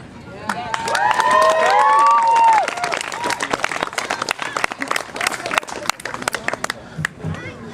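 A crowd applauds with dense clapping and a few cheers, swelling briefly then thinning into scattered claps that continue to the end.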